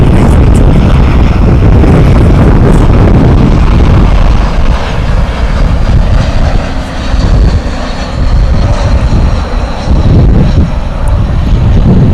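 A passenger jet on flight 2609 from San Antonio lands at DFW Airport, its loud broadband engine roar rushing steadily close by and swelling and easing slightly as it passes the runway.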